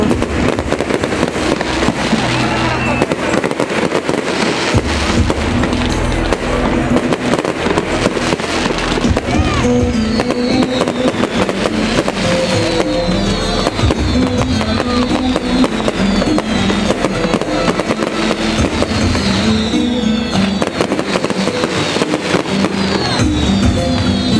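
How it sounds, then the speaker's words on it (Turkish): A roughly 15-minute fireworks show at a celebration in Cumhuriyet Square, Manisa, fills the air with continuous loud crackling, popping and booming bursts, with crowd voices beneath. "yaklaşık 15 dakikalık havai fişek gösterisi gerçekleştirilerek görsel bir şölen oluşturuldu"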